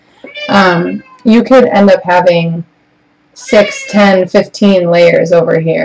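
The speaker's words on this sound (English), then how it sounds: "I'm sorry about my cat" A house cat meows repeatedly over someone talking, the cries mixing with and overlapping his continuous speech at close range.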